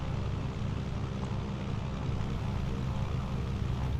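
A Cessna 207 Stationair's piston engine hums steadily in Microsoft Flight Simulator, a low, even drone that stays constant at moderate volume throughout, with no voices.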